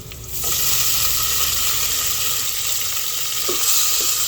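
Garlic and onion sauté in a hot pan as tomato is added for ginisang monggo, producing a loud, continuous close-up sizzle with a few faint stirring clinks and no talking.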